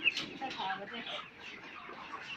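Broiler chickens about 34 days old cluck and murmur together inside a poultry farm, a dense, continuous flock chatter at moderate distance with soft overlapping calls.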